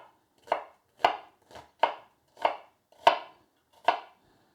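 A knife chops ingredients for a chicken and cashew nut curry on a cutting board, seven crisp, evenly spaced strokes close to the microphone with silence between them.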